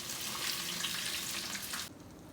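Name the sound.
crappie fish frying in oil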